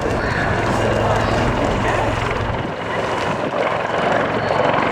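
Fleet Air Arm Wildcat helicopter flying a display at an RAF Cosford airshow, a loud, steady rotor and engine roar with wind buffeting, a commentator talking over it.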